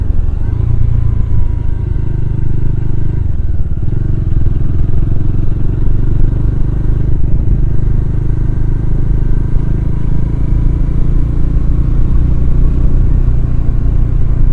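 A motorbike ridden on a foggy morning, its engine a loud continuous low rumble with steady road noise and wind, close and sustained throughout with no talk.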